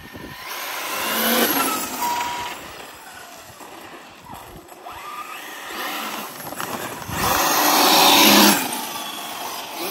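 Losi 5T brushless RC truck on an 8S LiPo with a Hobbywing Max5 and Castle 2028 800kv motor, whining and roaring as it passes, swelling loud twice outdoors in a light breeze.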